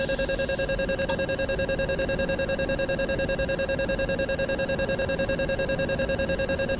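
A DCS flight simulator cockpit warning beeps in a fast, steady, continuous tone, loud and alone, with no talking over it.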